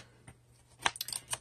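Scissors snipping thread while making a handmade paper journal: one small click, then a quick run of several light, crisp snips close by in a quiet room.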